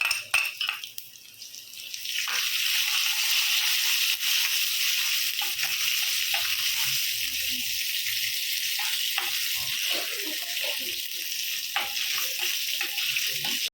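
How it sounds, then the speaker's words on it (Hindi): Cumin seeds frying in hot oil in a pan make a steady, close sizzle with fine crackles, continuous after a short quieter opening, with no speech over it. "अब इसमें 1 टेबल स्पून जितना ज़ीरा डालेंगे और थोड़ा सा ज़ीरे को भून लेंगे तेल में"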